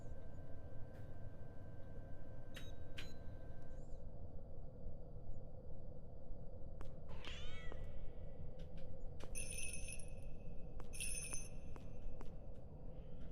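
Kitten meows from a video game, several short, rising mewing calls over a steady low background hum, fairly quiet and without speech.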